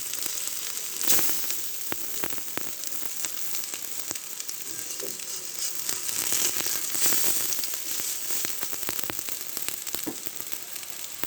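Crab chops made from spotted Sundarbans crab sizzle and crackle in hot oil in a pan, a steady close frying hiss peppered with sharp pops throughout, with no talking.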